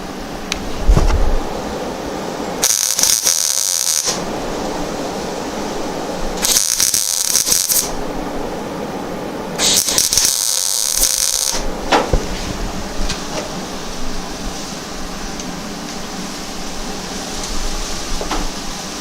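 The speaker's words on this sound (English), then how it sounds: "I'm going to try to get a weld down in here to hold it" A welder lays short welds on a motorcycle gas tank repair, producing three distinct sizzling, buzzing bursts of a second or so each, close and fairly loud, separated by quieter workshop background.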